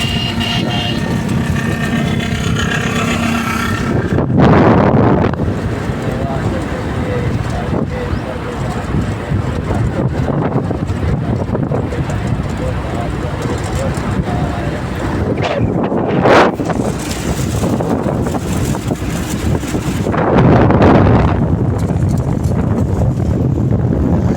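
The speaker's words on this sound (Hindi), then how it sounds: "और हवा चल रही है बहुत" Strong wind buffets the microphone outdoors on a trip to the flooded Dadu bridge, a loud continuous roar with gusts rising and falling throughout.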